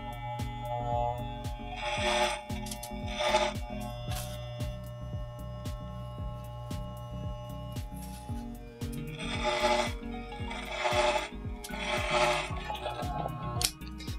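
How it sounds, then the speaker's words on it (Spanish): Wahl electric hair clipper cutting hair, a close, continuous motor buzz with repeated rasping bursts as the blades pass through the hair, no talking. "Vamos a prender la máquina y vamos a cortar este cabello."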